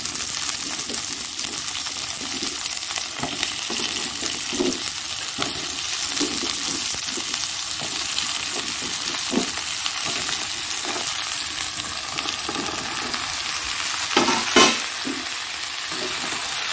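Ridge gourd, potato and green chilli fry in a pan, a steady close sizzle broken by repeated stirring scrapes and one louder clatter near the end, with no talking.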